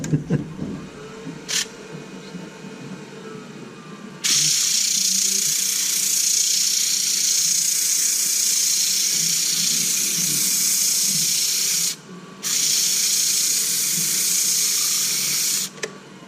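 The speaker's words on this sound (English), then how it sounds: "we'll try using some 100 grit sandpaper" 100 grit sandpaper held against a spinning woodturning on a lathe during a woodturners' club demo gives a steady, loud broadband hiss that starts abruptly and runs continuously, with two brief dropouts near the end.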